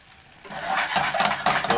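Risotto stirred with a spatula in a hot pan, a close, steady scraping and sizzling swish that grows louder after the first half second.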